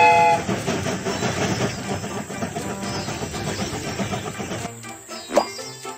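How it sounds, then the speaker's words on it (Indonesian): A cartoon passenger train pulls away, with a loud, busy run of rhythmic rail clatter and engine sound that cuts off near the end, followed by a brief sharp accent. "Kereta ini akan segera berangkat."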